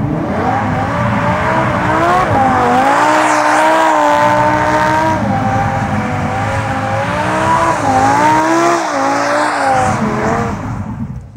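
A Lamborghini slides with its tires squealing loudly and steadily, the wavering squeal riding over a roaring, revving engine for the whole stretch before easing off at the end; no voices.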